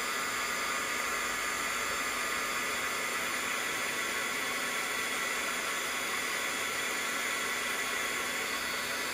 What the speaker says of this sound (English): So I've got my heat tool and I'm just going to quickly dry those off.